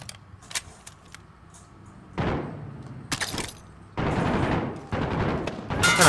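Gunfire in Call of Duty Modern Warfare, a few sharp isolated cracks followed by loud sustained bursts of fire separated by short pauses.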